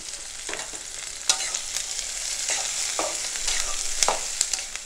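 Whole spices such as cinnamon, cloves and cardamom are sautéed in a pan for a white channa curry. A close, steady frying hiss is broken by several sharp spatula scrapes and taps.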